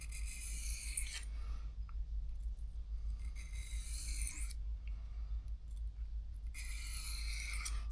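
A vintage pocket knife blade rasps back and forth across a sharpening stone in repeated gritty strokes, quiet and close, with a low background hum and no talk.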